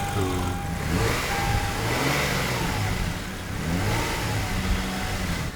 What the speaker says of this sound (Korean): 시동 거시고 지금 이렇게 악세 이렇게 몇 번 밟으셨잖아요